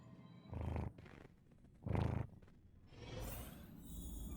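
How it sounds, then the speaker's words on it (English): A pet cat purrs right up against the microphone in two loud rumbling bursts, followed by softer continuous low rumbling and rustle close by. "Hear your cat again."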